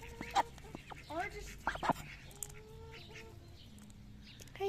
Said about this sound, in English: I'm going to give the duck a little more feed.